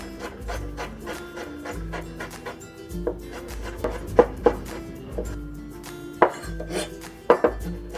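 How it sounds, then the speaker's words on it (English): A knife mincing ginger and garlic together on a cutting board makes rapid, steady chopping taps, up close, with a few sharper, louder knocks toward the end. "And we'll also mince the ginger and the garlic together."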